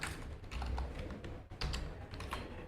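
Steady close-up typing of JavaScript code on a computer keyboard, a continuous run of quick, soft key clicks with a few slightly heavier taps, quiet and without any talking.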